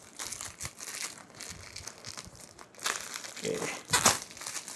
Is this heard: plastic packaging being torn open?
yes